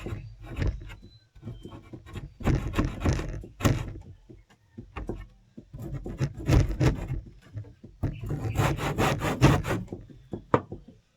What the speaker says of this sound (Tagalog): Tabingin ko ang lagari.